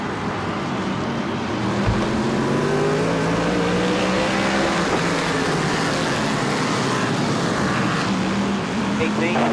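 A pack of race cars roars back up to speed on the Bowman Gray short track, engines rising and overlapping under a steady crowd-like wash, with voices talking over the racing.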